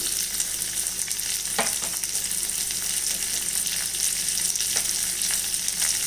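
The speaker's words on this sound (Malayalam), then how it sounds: "നല്ലോണം ഇളക്കി കൊടുക്കാം." Onion, green chilli and ginger frying in a pan, a constant close crackling sizzle with occasional soft scrapes of stirring and no talk.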